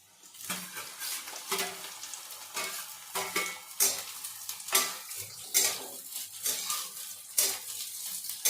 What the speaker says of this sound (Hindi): सरसों का तेल डाला है, और एक डाल के देखा है, हो गया क्या तेल। हो गया। और ये मैं फ्राई कर लूँगी।